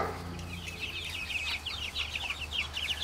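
Month-old baby chicks peep and cluck in a quick, busy chorus of high chirps, close by and steady throughout, with a low hum underneath.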